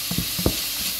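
A lasagne roll simmering in a pan gives a soft, steady bubbling hiss, broken by a few brief scraping stirs near the start and middle of a short moment.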